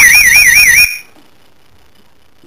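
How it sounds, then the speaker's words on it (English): A loud, warbling electronic siren wails from an alarm bell box for under a second, then cuts off into near silence. "This is the bell box."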